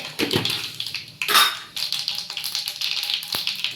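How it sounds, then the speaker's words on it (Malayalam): A spoonful of mustard seeds lands in hot coconut oil in a pan, bringing close, sharp clinks and a burst of crackling spatter that keeps popping in quick, uneven bursts. "എണ്ണ ചൂടായിട്ടുണ്ട് ഞാൻ ഇച്ചിരി ഒരു സ്പൂൺ കടുക്"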